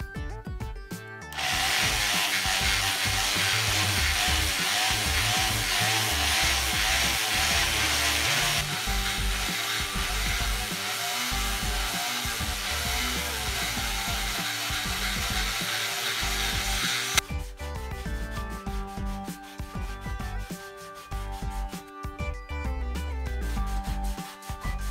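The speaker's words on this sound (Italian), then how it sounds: "Adesso andiamo a carteggiare grana grossa." Power sander working coarse grit across wooden sliding shutters, a loud continuous abrasive whir running almost the whole time with shifts in pitch and pressure, briefly cutting out near the end.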